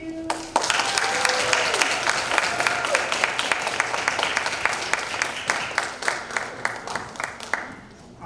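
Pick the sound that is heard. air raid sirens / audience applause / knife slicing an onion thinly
audience applause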